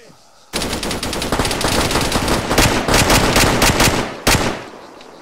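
Sustained automatic machine gun fire in the military game Arma 3, a loud, close, rapid burst lasting several seconds with a brief break and one more short burst.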